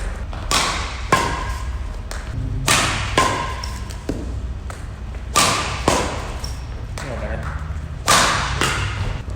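Badminton racket striking a shuttlecock in doubles backhand drive practice: a series of sharp, close pops recurring about every one to two seconds amid shuffling footsteps and court noise.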